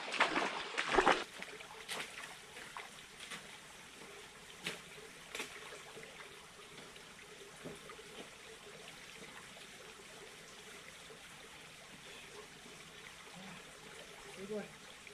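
A mountain waterfall in an autumn forest gives a faint, steady rush of water, distant and soft, with a few brief louder knocks and rustles of movement near the start.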